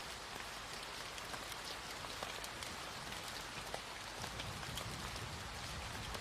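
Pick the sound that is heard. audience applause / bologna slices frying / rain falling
rain falling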